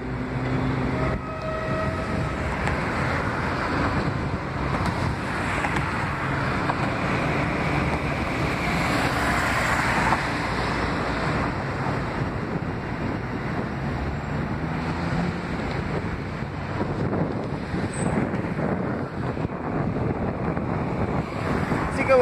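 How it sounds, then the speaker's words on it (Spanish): A local passenger train pulls out of Córdoba Mitre station bound for Villa María and gathers speed, a steady broad rumble of wheels and engine that holds loud and unbroken throughout. "este es un tren partiendo desde Córdoba y le pone velocidad, ¿eh?"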